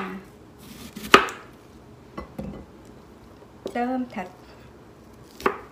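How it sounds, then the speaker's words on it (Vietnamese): A knife chops onion on a cutting board in a home kitchen, giving a few sharp, separate knocks spread over several seconds, close by, with a voice speaking briefly between them. "mình sẽ cắt củ hành để mình đi xào cái phần"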